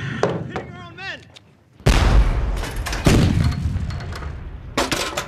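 Heavy artillery explosions and gunfire in a war movie battle scene: a quiet stretch with shouting, then a loud deep boom at about two seconds followed by repeated blasts and rumbling impacts, with yelling voices throughout.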